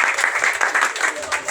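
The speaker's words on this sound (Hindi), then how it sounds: "मैं सबसे गुजारिश करूंगा इकबाल भाई से कि वो तशरीफ लाएं भरपूर ताली" Audience applause fills the room at a tournament prize-giving, a steady dense patter of many hands clapping at close range.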